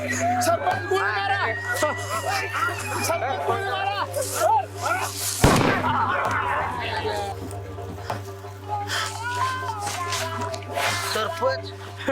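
A single sharp gunshot bang cracks out midway through a dramatic village scene where a snake is being shot at, over steady background music and voices.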